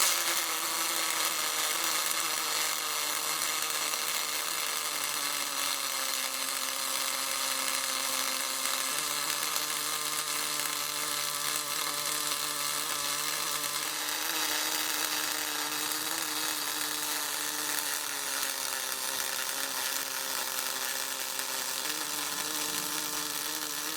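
MIG welding of aluminum on a 52 to 260 welder: a continuous close buzzing, crackling arc hum that holds steady throughout, with slight shifts in pitch.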